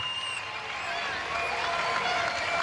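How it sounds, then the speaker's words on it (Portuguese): Italian audience applauding at a rhythmic gymnastics World Cup hoops final, a steady, fairly restrained patter of clapping from a crowd with a commentator talking over it. "A forma como o público italiano reconhece aí as adversárias. Aplaudindo de maneira mais tímida"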